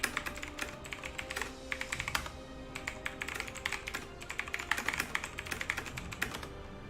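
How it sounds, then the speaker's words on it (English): Fast typing on a computer keyboard, a dense stream of crisp key clicks with short pauses between bursts, close and fairly quiet, with no voices. "I'm going to type this out here as well"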